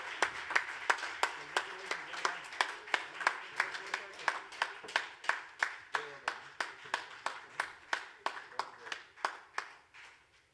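Applause at an awards ceremony livestream, a small audience clapping in a steady rhythmic beat of sharp, evenly spaced claps that carries on throughout with faint talk underneath.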